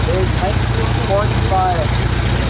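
A 1945 Farmall H tractor engine runs steadily at a low, even idle at a vintage tractor parade, with someone talking over it.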